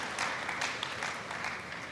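A German crowd applauds at a women's singles table tennis match at WTT Frankfurt 2023, a steady, dense wash of clapping that fills the short moment with no voices.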